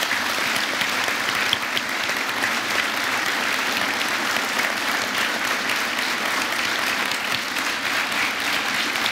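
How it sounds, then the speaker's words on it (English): Sustained, dense applause from a large crowd at the University of Mount Olive fills the whole stretch at a steady, loud level, with no voices standing out. "need a round of applause"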